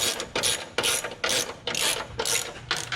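A ratchet tightens the front sway bar on a Chevy Camaro in quick repeated bursts of close, sharp clicking, roughly six strokes in steady rhythm with no talk.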